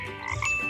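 A single frog croak used as a sound effect in a Hindi children's story, a loud, close, drawn-out rasping call lasting under a second, with no talking.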